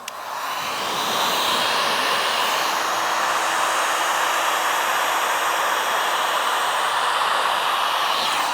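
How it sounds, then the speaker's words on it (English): Heat gun blowing hot air over vinyl wrap on a car fender, a steady loud whooshing roar that starts up and then holds constant at close range with no talking. "my heat gun."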